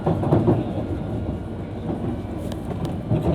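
A London Underground S-stock train pulling away, rumbling and clattering steadily at close range with a continuous low roar throughout, no talk.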